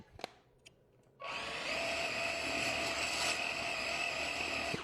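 A blender whirs loudly and steadily as it purées fish with fresh dill for a fish terrine, starting abruptly after a few faint clicks and running continuously to the end.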